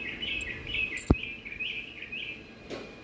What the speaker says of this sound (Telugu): చిట్టి పిట్టలు కూడా వచ్చినాయి